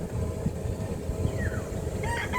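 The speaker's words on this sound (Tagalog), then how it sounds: "Dami-dami yung mga panabong." Fighting cocks on a farm give short crowing and clucking calls at moderate distance, heard over a steady background hum of outdoor noise.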